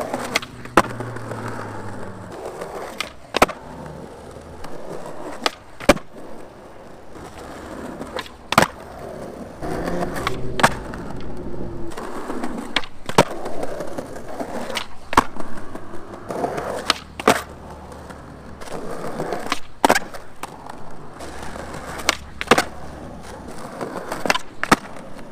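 A Powell Flight skateboard deck made of five maple plies with two carbon fiber layers pops and lands repeatedly, giving sharp, loud cracks at irregular intervals over rolling wheel rumble outdoors.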